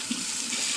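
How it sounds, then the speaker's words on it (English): Water runs from a tap at full pressure, a loud, steady splashing hiss that fills the whole brief moment without any talking. "I want to turn this water pressure down a little bit"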